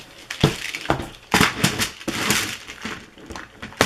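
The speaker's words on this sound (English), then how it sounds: "Sorry for the noise. I'm trying to get a bead." Beads rattled and rummaged inside a plastic storage container, a run of loud irregular clattering bursts of small hard pieces, close and without talk.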